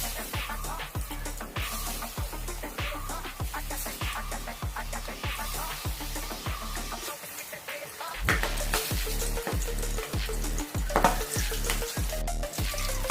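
Chopped onion sizzles loudly in hot oil in a home kitchen pan. A constant crackling fry runs throughout, with regular scraping strokes of stirring and a short pause near the middle.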